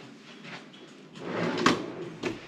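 A large, deep dresser drawer in a two-bedroom resort villa bedroom slides open or shut, giving a broad rumbling scrape that swells midway with a sharp knock near the end, then a second smaller bump.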